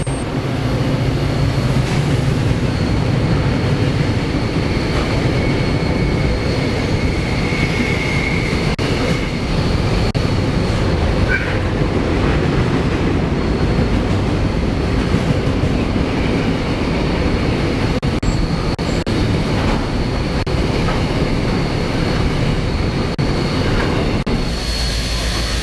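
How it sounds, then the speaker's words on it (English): Several diesel locomotives, one leading two others, haul a heavy steel train past a station in the Hunter Valley, New South Wales, a steady loud rumble of engines and rolling wagons that lasts throughout with no talk. "DP006 is seen leading two other diesels on a steel train."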